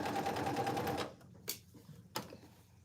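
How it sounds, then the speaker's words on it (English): A sewing machine runs a fast, close stitching burst while sewing a cargo pants pocket, then stops abruptly, followed by two short sharp clicks and quiet. "continue to sew the pocket all the way down and around"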